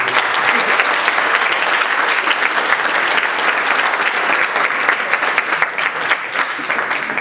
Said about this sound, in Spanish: nuevamente les pido por favor un gran aplauso para los compañeros